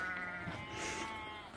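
A sheep gives a single drawn-out, wavering bleat close by on a rural farm, with faint outdoor background noise and no voices.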